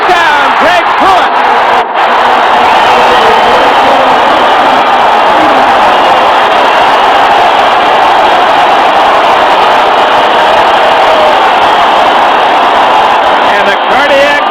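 Loud, sustained roar of a football stadium crowd on its feet cheering a Cleveland Browns touchdown against the New York Jets, a dense continuous wall of cheers and whoops that holds steady throughout.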